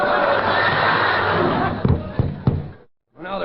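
A horse-neigh sound effect from an old-time radio comedy show, a loud whinny lasting well over a second, followed by a few sharp knocks and a brief silence.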